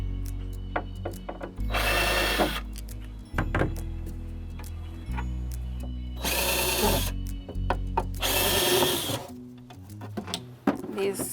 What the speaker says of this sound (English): we're gonna get started by taking the hardware off